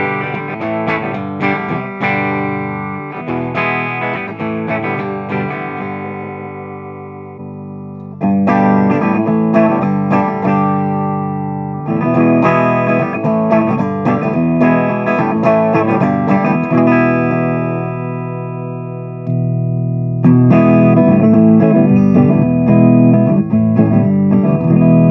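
Electric guitar played through a Boss AC-3 Acoustic Simulator pedal into an amplifier, strummed chords and picked notes ringing out loud and steady across several passages with brief pauses, no talking.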